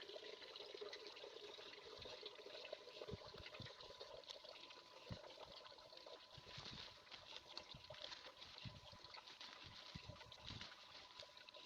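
Water is poured over wood chip mulch in a garden bed, a continuous splashing and trickling wash with scattered soft patters, steady and close throughout.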